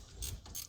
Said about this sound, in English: We are going to remove the 12mm bolt that's holding the bracket together.